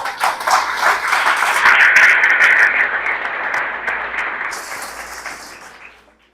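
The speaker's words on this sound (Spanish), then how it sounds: "Dale un aplauso al Señor." A church congregation breaks into loud, sustained applause that swells to a peak, then gradually tapers off and fades out.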